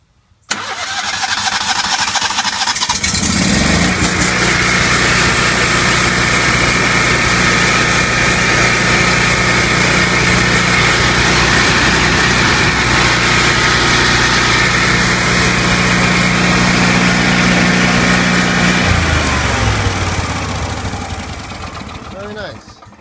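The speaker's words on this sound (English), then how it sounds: "Nice generator. I'd say about as loud as my Briggs & Stratton." A Kohler 20KW RESA whole-house standby generator cranks, catches and roars up to a loud, steady idle. The engine drones close by for most of the time, then runs down near the end.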